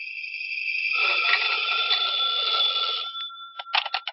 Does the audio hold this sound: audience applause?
no